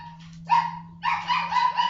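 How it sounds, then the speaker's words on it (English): A dog barks sharply in reaction to a knock on the door indoors, two short loud yapping barks close by, the second drawn into a longer whining bark. "That's my dog. And that's how she reacts every time someone knocks on the door."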